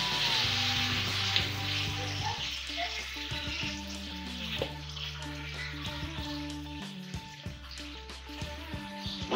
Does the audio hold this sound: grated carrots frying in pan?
yes